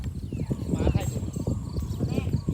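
Horse hooves clip-clopping in a steady, close rhythm, with people talking over the steps throughout.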